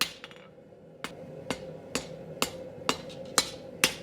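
A hammer pounds 1084 steel stock, two inches wide and 3/16 inch thick, being forged into a chef's knife; about eight sharp, ringing strikes fall at a steady, evenly spaced rhythm, loud and close.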